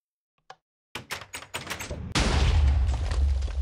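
A TNT minecart ender pearl cannon in Minecraft fires: a quick run of sharp clicks and mechanical clacks builds into a loud, sustained explosive roar that fills the end of the clip, with no talking.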